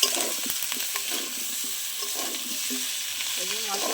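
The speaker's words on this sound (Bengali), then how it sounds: "এই যে মশলার সাথে ভালো কষানো হয়ে গেছে আমার ওল আর আলু একসাথে।" Chunks of yam and potato sauté with spices and torn fresh bay leaves in a pan for a Bengali hilsa fish curry, giving a steady close sizzle broken by clinks and scrapes as the mixture is stirred.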